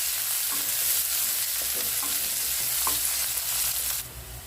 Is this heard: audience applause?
no